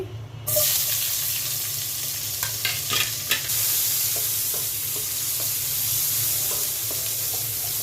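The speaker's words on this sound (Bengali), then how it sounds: "মাছ ভাজা তেলের মধ্যে আমি পেঁয়াজ দিয়ে দিচ্ছি" Onions hit hot oil left from frying hilsa fish with a sudden loud sizzle that settles into a steady frying hiss, with a few stirring scrapes.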